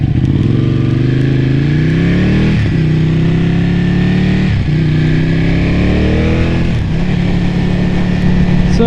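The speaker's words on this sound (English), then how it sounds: "We're going to test ride the 1199 on a beautiful day in sunny Southern California" A Ducati Panigale 1199 motorcycle on a test ride in sunny Southern California, its loud engine close and constant, climbing through revs with brief dips at gear changes about every two seconds, and no talking.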